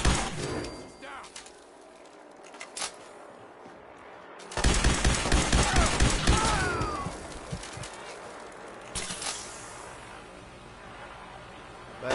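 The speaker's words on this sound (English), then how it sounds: "Covering fire!" Covering gunfire in Fallout 4, with a dense burst of rapid shots in the middle and scattered shots before and after, fairly close and loud.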